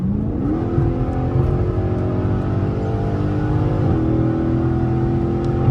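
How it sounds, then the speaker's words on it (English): Straight-piped exhaust on a Dodge Charger Scat Pack Shaker Edition revs up under steady drive, a loud, close, continuous engine drone that rises in pitch early on, holds, then shifts again near the end. "This exhaust sound good. For a little straight pipe."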